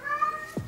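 A house cat gives one short meow near the end, close by, over faint background tones.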